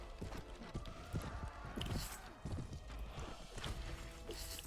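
Horse hooves galloping in the video game Mount and Blade Warband, an irregular run of thudding clip-clop beats amid battle clatter and bursts of background game noise.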